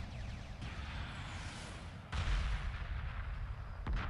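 Anti-fighter weapons on the Mothership open fire in the space strategy game Homeworld Remastered, a faint, rumbling barrage of rapid shots that swells into heavier bursts partway through.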